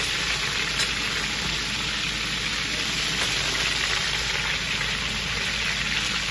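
Steady, dense sizzling of onion frying in a pot, a constant crackling hiss with no pauses and no voices.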